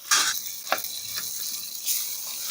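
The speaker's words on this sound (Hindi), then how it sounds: "इसको अच्छे तरीके से हम भून लेंगे।" Mashed roasted brinjal bharta frying and being stirred into a spice masala in a pan, a steady close sizzle with a few scraping stir strokes and no talking.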